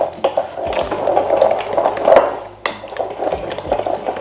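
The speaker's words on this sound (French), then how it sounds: "maintenant, on va venir mélanger avec une cuillère en bois nos autres ingrédients" A wooden spoon stirs sugar into other ingredients for coconut rock cookies, giving a steady scraping and rubbing against the bowl with a few soft knocks and one brief pause, close and moderately loud, with no talking.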